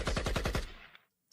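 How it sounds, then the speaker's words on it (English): A quick burst of six or seven loud automatic gunshots fires in rapid succession, then cuts off and fades into silence. "gunshots"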